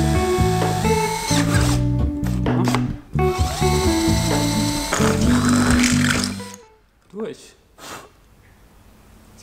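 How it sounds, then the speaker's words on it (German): Drill driving an 8 mm bit through material while mounting solar panels on a roof, grinding loudly and steadily for several seconds before stopping, followed by a few faint knocks. "Gehe auch direkt mit einem 8er Bohrer durch."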